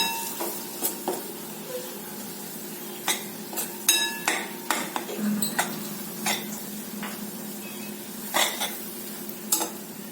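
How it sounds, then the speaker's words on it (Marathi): Gram flour roasting in oil over low heat is stirred with a spoon, producing a quiet sizzle under a series of sharp, irregular taps and scrapes against the pan. "डाळीचं पीठ एक दोन चमचे यामध्ये घालायचं मंदाचेवरती त्याच तेलामध्ये छान भाजून घ्यायचं"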